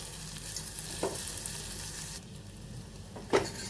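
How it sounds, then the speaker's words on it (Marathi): Potato pieces sauté in a ground spice paste with steady sizzling and frying close by, plus a couple of sharp scraping stirs from a spoon in the pan. No one speaks. "एक दोन मिनिट बटाटा पण या वाटणाबरोबर छान परतून घ्यायचा"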